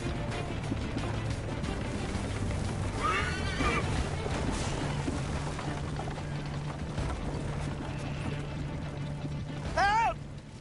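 A horse whinnies twice in Assassin's Creed Liberation, against a steady wash of background noise and mechanical ratcheting.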